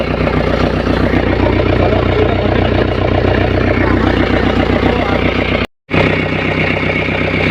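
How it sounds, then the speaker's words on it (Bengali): A Sundarbans tourist boat's engine drones steadily and loudly close by, a low chugging throb that runs almost unbroken with one brief dropout. "সুন্দরবনের যে টুরিস্ট বোট, সেই টুরিস্ট বোট ওই যে যাচ্ছে সামনে"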